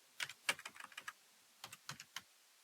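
Quiet, close computer keyboard typing as a password is entered: a quick burst of about a dozen crisp key clicks, a short pause, then a few more taps.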